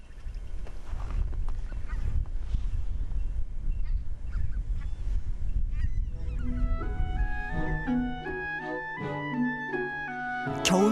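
Winter migratory birds, geese near the Korean DMZ, making loud honking calls. Rough outdoor rumble fills the first half, then a chorus of overlapping honks rises and continues to the end.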